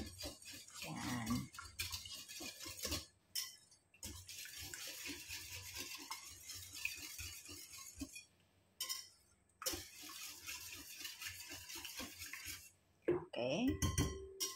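A spoon clinks and scrapes against a bowl while stirring a flan mixture, in several rhythmic bursts broken by short pauses, close up, with someone speaking at times.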